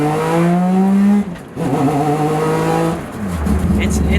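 A Mazda RX7 with a 20B three-rotor engine revs hard toward high rpm, heard from inside the car: a loud, buzzing harmonic drone that climbs, drops briefly, then climbs again, with voices overlapping near the end.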